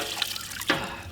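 Chicken is washed under running tap water in a village kitchen, with a continuous splashing stream and a couple of brief louder gushes as the pieces are moved, and no talking.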